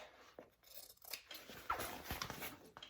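Scissors trimming fabric for a backpack zipper pocket, several quiet snips and crisp cuts spaced irregularly, close and soft against faint room noise.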